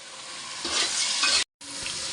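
Local garlic fries in a hot pan with a steady, close sizzle and crackle, briefly stirred, cutting out for a moment before the sizzling resumes.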